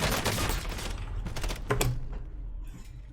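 Gunfire from a first-person online battle royale shooter, Call of Duty: Warzone, including shotgun blasts, comes as a dense burst of loud shots and booms over roughly two seconds, then thins into fainter scattered noise.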